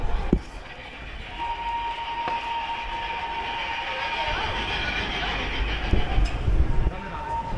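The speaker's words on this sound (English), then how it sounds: "And I'm about to get run over by a train." A train rolls past in Chamonix with a broad rumble, wheel clatter and a thin squeal on the rails. It stays loud and close for several seconds, with a few sharp clanks and no one talking.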